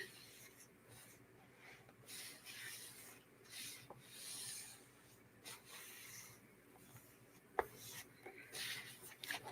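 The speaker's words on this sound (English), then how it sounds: "I'm just rubbing the wrinkles out." A hand rubs wrinkles out of a glued paper or fabric piece during a cutting and gluing craft session, a steady close scratchy rubbing that swells and fades in strokes, with a few small knocks near the end.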